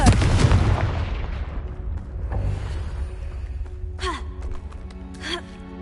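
A blasting spell from the video game Hogwarts Legacy goes off as a loud, booming burst that fades into a long rumbling tail, with a gasp and faint whooshing effects following.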